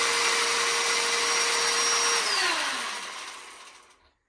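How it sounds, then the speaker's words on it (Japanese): A Black and Decker cordless battery chainsaw runs inside a shed with a steady, fairly loud electric whine, then winds down and goes quiet in the final seconds. "エンジンのチェーンソーより音が小さくて良いですね。"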